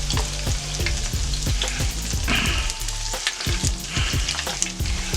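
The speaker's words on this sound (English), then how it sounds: "Now these don't take too long to fry" Egg rolls stuffed with Thanksgiving leftovers deep frying in hot oil, a steady crackling sizzle with rapid popping bursts throughout, close and loud, with no voices.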